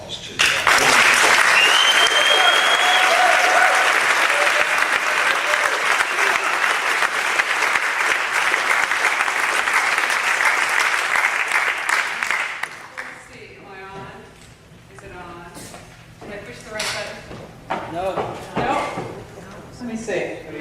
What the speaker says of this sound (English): I ask you to give an applause to her.